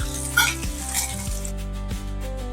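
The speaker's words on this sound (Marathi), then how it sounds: "कांदा चांगला लालसर होईपर्यंत भाजून घ्यायचा।" Onion sizzles steadily in hot oil in a pan, browning until reddish for a Malvani surmai fish thali, a continuous crackle with background music.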